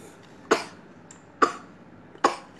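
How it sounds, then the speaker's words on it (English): Three separate dry coughs come about a second apart, near and fairly loud, over a quiet background hum. "coughing"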